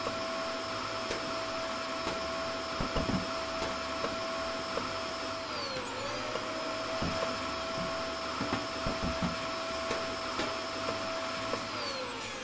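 A vacuum in the video game Kill It with Fire drones steadily, its whine dipping and rising again midway, with faint clicks and knocks of items being sucked up.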